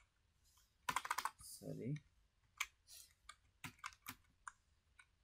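Quick bursts of computer keyboard typing while entering text in a Canva design tutorial, close and crisp, with a short spoken word near the start and scattered key clicks afterward.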